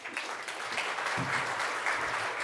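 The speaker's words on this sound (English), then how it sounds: "please let's have a round of applause for Dr. Robert Graboyes" Audience applause for a keynote speaker at a health care event, a steady, dense wash of clapping filling the room throughout, fairly even in loudness with no voices over it.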